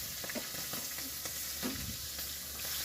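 Chillies frying in hot oil while a restaurant-style shahi paneer is being made, a steady dense sizzle with occasional crackles and stirring scrapes, close and continuous, no talking.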